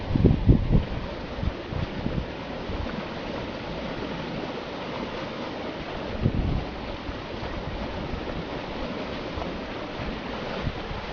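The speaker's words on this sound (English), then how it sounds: "They're just from that big boat that went by." Waves from a passing boat's wake wash and lap against the shore in uneven surges, a few louder splashes early and midway, with wind buffeting the microphone.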